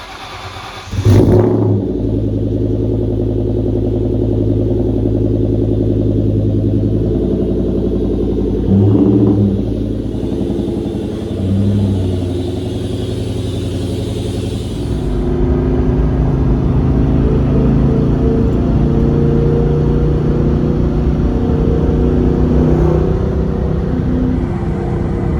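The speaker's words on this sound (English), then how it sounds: "let's go for a ride in my Cobra now" A Ford Mustang Cobra starts and drives with a loud, steady engine drone. The revs rise and shift in pitch as it accelerates and changes gear, heard from close by inside or near the car.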